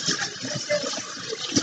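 Shower water runs steadily while a puppy is rinsed, a continuous splashing hiss with small bumps and shifts as the stream moves, close by and without speech.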